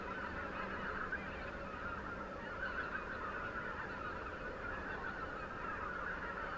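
Canada geese honk loudly and continuously as a flock flies overhead outdoors at night, the calls layered and overlapping over steady background noise.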